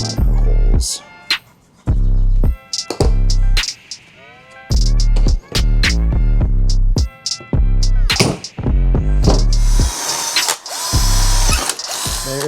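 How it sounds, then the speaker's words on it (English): A power drill bores holes in a mounting strip during a Chevy Silverado head unit install, firing in repeated loud whirring bursts separated by short pauses, with one long final run. "get it cut and get it drilled"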